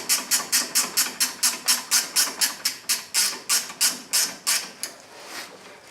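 Close, rapid ratchet clicks in an even rhythm of about twenty strokes as the bottom bolt comes off a 2014 Nissan Rogue rear brake, ending in a brief pause.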